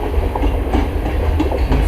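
First Coast Railway train crossing the St. Marys River trestle, a loud continuous rumble of rolling wheels with rhythmic clickety-clack over rail joints, close and steady for the whole stretch.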